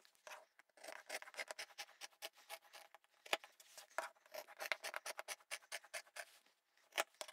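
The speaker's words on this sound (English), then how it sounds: "And now I can cut out these two big squares." Scissors snip through fabric in a quick, steady run of close, crisp cuts, cutting out two large squares for a giant travel duffle bag, with brief pauses and no talking.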